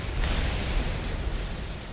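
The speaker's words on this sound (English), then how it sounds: "you want to just drop your bombs" Bombs from a Pe-2 dive bomber exploding in War Thunder, a dense rumbling roar of blasts blending into one sustained, loud, low boom with no talk over it.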